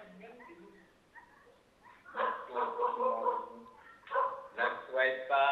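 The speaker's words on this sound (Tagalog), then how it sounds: "Mabuti pa yung aso kumanta." A dog yips and howls along while a person sings a team song, its cries mixing with the voice in loud, uneven bursts that rise and fall over several seconds.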